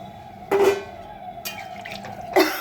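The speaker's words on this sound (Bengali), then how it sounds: "আর একটুখানি জল দিয়ে দিলাম" A little water is poured into a pot of duck egg curry, giving short splashy bursts of liquid with quiet gaps between them.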